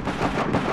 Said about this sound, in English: Well, I shot someone.